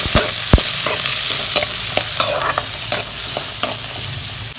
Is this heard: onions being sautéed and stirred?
yes